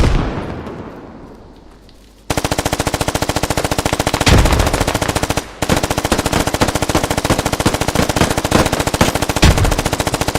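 Rapid machine gun fire in a video game battle, a dense sustained stream of shots after a fading blast, loud and close with a short break midway.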